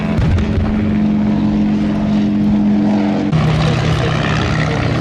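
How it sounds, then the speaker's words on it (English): A vintage Avro 504 WWI biplane drones overhead at an air festival display, its rotary engine a loud, continuous throbbing hum that shifts pitch slightly partway through as it circles. "the Avro 504 circles up above, surveying the battlefield"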